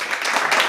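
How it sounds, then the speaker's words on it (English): A dense wash of applause, many hands clapping steadily for a brief moment. "Let's give you a round of applause for that."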